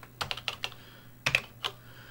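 Keys clack on a Tandy Color Computer keyboard, a few quick separate presses, then a pause and two more, crisp and close with a faint hum behind.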